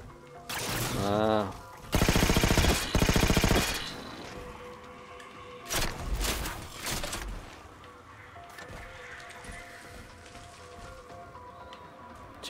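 Bursts of rapid automatic gunfire in Halo 4 from The Master Chief Collection, loud and close, with several sustained volleys and scattered shots, followed by quieter background noise.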